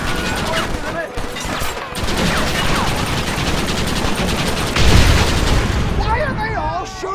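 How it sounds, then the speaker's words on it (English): Rapid gunfire crackles in Red Dead Redemption, a dense continuous fusillade of overlapping shots with heavier booms, loud and close, while voices shout over it. "Why are they all shooting at me?"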